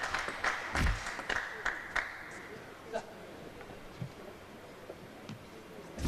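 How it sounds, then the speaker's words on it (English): Crowd at a 2016 World Tour Grand Final table tennis match breaking into scattered clapping and murmured oohs. The applause comes in short bursts and then eases to a soft background hum, with faint talk above it. "Oh, the oohs and ahs from the crowd. They're really appreciating this one."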